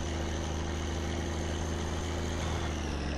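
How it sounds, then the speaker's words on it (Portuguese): A truck engine in the game My Summer Car drones steadily at a constant loud pitch, a deep continuous rumble with no clear change in revs. "O caminhão não dá pra acelerar,"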